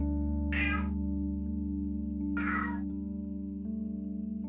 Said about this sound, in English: I think you can hear my cat.